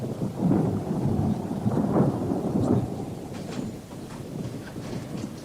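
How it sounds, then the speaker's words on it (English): Thunderstorm sound effect from a radio drama: a loud, continuous rumble of thunder with rain hiss, swelling and slowly fading, no voices. "Another storm brewing by the sound of it."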